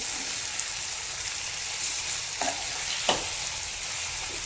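Liver fry (kaleja) sizzles softly in a pan, with a few brief scrapes as it is stirred, close and quiet, no voices.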